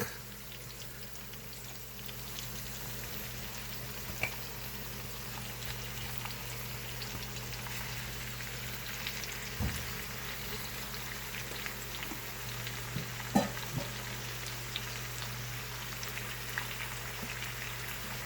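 A pork hock frying in a pot of hot oil, giving a steady soft sizzle with scattered pops and crackles, fairly quiet and continuous with a low hum underneath and no talking.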